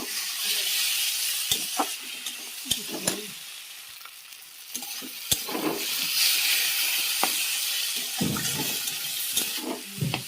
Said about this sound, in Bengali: একটু মশলাটা ভালো করে ভেজে নেবো